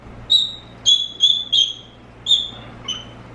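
Sick pet bird giving a series of about six short, clear, high whistled notes in irregular succession, close by in an otherwise quiet room.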